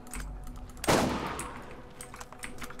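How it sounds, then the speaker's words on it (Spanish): Gunfire in the Borderlands video game: a single loud gunshot cracks out and decays quickly, over busy game background noise. "pero ¿cuántos disparos te tengo que dar nivel 7?"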